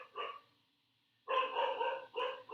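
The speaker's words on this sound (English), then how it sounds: "That's my dog. Ginger." A pet dog named Ginger barking in short bursts, one quick bark then a pause followed by a longer run of barks, moderately close and fairly quiet, alone without talk.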